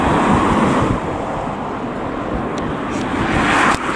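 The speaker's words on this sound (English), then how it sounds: "because it is quite windy" Strong wind buffeting a microphone outdoors by fields and a quarry near a roadside, a loud continuous roar and rumble that swells and eases slightly, with no voices.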